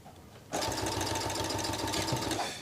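A sewing machine starts up and runs fast with a rapid, steady clunking stitch rhythm, close and loud, for about two seconds before slowing.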